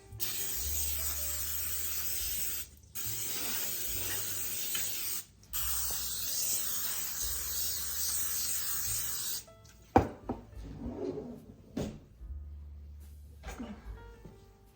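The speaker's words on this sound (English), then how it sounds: "I'm going to spray." Several long hissing bursts from a can of cooking spray, each lasting a few seconds with brief pauses, followed by clatter and light handling noises.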